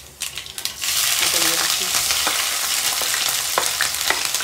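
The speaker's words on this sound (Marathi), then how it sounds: "तिथे जिरे टाकले, मोहरी टाकली," Cumin and mustard seeds hit hot oil in a home kitchen while poha is being made, giving a loud, steady sizzle and frying hiss with a few faint clicks of stirring, alone without talk.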